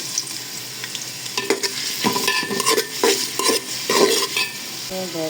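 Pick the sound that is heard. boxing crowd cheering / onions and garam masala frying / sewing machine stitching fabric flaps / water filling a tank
onions and garam masala frying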